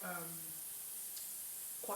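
Garlic and ginger sizzling steadily in a hot pan while cooking a restaurant-style jalfrezi, a bright continuous hiss, with brief bits of a voice at the start and end.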